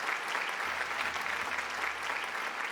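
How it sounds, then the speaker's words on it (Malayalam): Studio audience applause at a Zee Keralam game show taping, a dense, even wash of clapping with a low hum beneath, moderately loud and steady for a few seconds. "ഒരു നല്ല കൈയടി തന്നേ."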